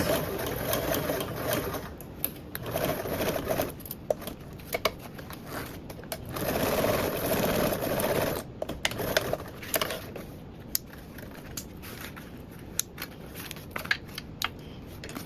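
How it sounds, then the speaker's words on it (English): A sewing machine stitches straight over a previous line of stitching, giving a steady, close mechanical whirr with brief pauses and small clicks throughout. "Just going to sew directly over my stitching."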